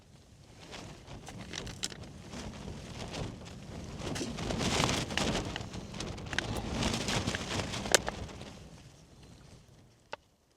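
Wind gusts in a broad rushing swell that builds, holds for several seconds, then fades away, with scattered clicks and rattles close by, at a winter campsite with a Durston X Dome 1p tent.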